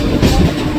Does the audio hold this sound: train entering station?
yes